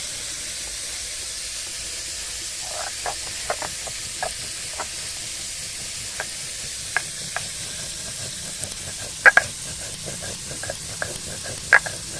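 Bori, Bengali lentil dumplings, fry in hot oil with a steady soft hiss, dotted with scattered small crackles and pops; close, fairly quiet and continuous.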